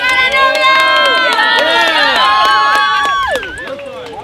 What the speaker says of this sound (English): A round of applause for the bride